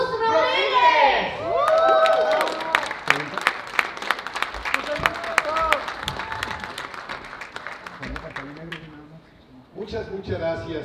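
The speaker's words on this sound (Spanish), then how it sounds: "vamos a darle un fuerte aplauso para que aparezca aquí en el escenario" Audience applause and cheering in a Ciudad Juárez venue at THE CON Vol. 3 as a comedian is called on stage, dense clapping lasting several seconds after opening shouts and chatter, then fading as a voice begins speaking.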